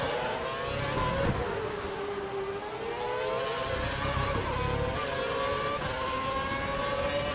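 A Formula One car in the F1 2012 video game at Yas Marina, Abu Dhabi, loses grip over the kerbing, its engine whining steadily and shifting pitch with continuous loud roar throughout.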